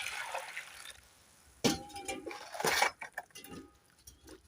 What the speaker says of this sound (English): We have to wash them well.